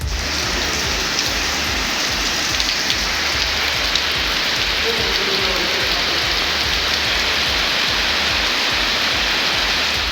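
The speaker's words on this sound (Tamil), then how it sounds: "சென்னையில் அதிகாலையில் ஒரு சில இடங்களில் கனமழை கொட்டி தீர்த்தது." Heavy rain pours down in Chennai in the early morning, a dense, steady hiss of drops hitting surfaces that holds unbroken and loud for the whole stretch, with no voices.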